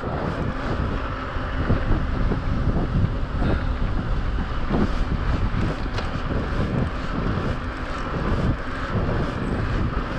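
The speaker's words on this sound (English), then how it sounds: "the wind is actually quite strong" Strong wind roars across the microphone during a downhill bike ride from Pal Bike Park to La Massana in Andorra, a loud continuous buffeting rush that lasts throughout.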